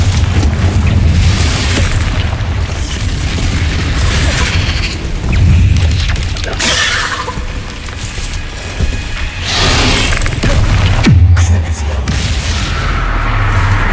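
Confringo blasting spell exploding in Hogwarts Legacy combat, a dense barrage of booming blasts and crashing impacts layered over continuous battle noise for the whole stretch, with shouted spell calls mixed in.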